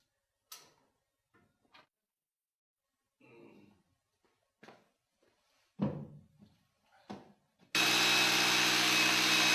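Scattered clicks and handling bumps, then an electric drill suddenly whirs loudly and continuously into a wall at close range, drilling holes for a telecom equipment rack bracket.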